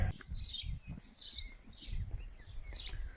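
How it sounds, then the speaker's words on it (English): Birds chirp in short bright bursts in Croatia, repeating every half second or so, fairly close, over a low rumbling background. "The song of the bird."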